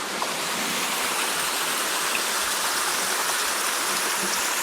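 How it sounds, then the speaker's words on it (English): Water pours steadily down a large historic canal spillway into a stream below, a continuous broadband rushing wash that stays close and even throughout with no voices. "I love the sound of running water."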